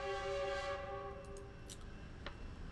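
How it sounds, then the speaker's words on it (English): A train sounds its horn at a rail crossing by a road intersection. The loud sustained horn blast opens the scene and fades as the train rumbles steadily past, with faint rail clatter and no talk. "I'll let the train pass."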